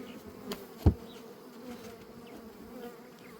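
Honey bees hum and buzz steadily around an opened hive during the summer dearth, when sugar-water feeders are given. The drone holds close and continuous throughout, with one brief thump near the start.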